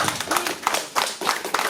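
A small audience claps at a furry and cartoon fair conference, a handful of hands beating out uneven bursts with brief dips between them, close and moderately loud.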